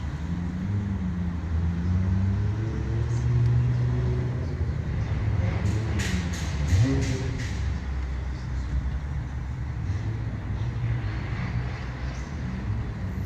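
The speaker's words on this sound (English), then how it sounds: "I can hear the car reversing into the start line." A drift car reverses toward the start line at a practice event, its engine a steady low idle rumble with slight revs, heard from a distance amid outdoor ambience.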